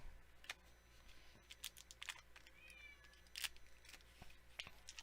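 Faint domestic cat meows, several short calls scattered over quiet room tone with light rustling and clicks from handling trading card packs at a table.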